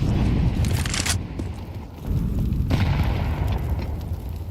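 A grenade detonates in a Counter-Strike 2 match at ESL Pro League Season 19, a loud, dense blast with a rumbling tail under the game's continuous action noise.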